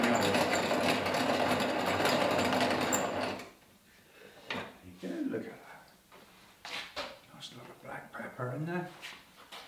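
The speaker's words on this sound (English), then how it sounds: "To taste, this is black pepper. My little grinder, what a lovely thing out here." A small hand grinder cracks black peppercorns for a few seconds with a dense, gritty rasp, then someone talks over faint handling noises.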